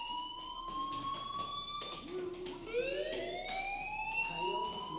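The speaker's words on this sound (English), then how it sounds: "Hey, do you hear that fire alarm?" A fire alarm in the video game Life Is Strange sounds continuously as a high electronic tone that keeps shifting in pitch, with low background noise underneath.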